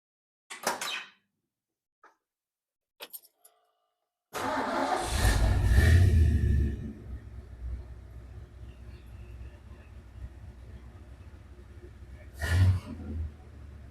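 A 1972 Ford F-250 4x4 truck engine cranks and catches after a few faint clicks, roars up loudly for a couple of seconds, then settles into a steady close idle with one more brief rev near the end.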